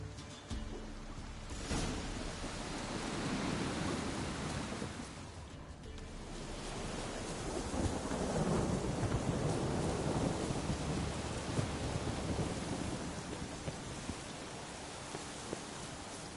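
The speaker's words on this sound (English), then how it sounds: "A storm, damn it." Thunderstorm in a Witcher video game: heavy, steady rain hiss with deep rolling thunder swelling and rumbling throughout, loud and continuous with no talking.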